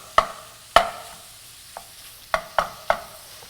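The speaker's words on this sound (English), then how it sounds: "So I put the shallot in maybe like 1 to 2 minutes before I put in my pork." Diced shallot and pork sausage frying in a pan, with a soft sizzle under several distinct scrapes and taps of a utensil stirring at uneven intervals.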